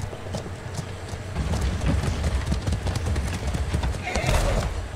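A horse in the ATLAS video game gives quick clip-clopping hoofbeats throughout and a whinny near the end, while a person talks over the action.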